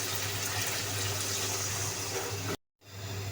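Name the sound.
water poured into pan for fish curry gravy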